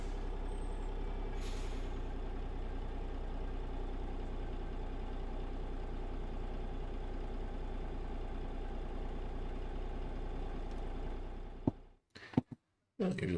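A truck idles with a steady, loud, close engine rumble for a long stretch, then cuts off abruptly into a few clunks and short bursts.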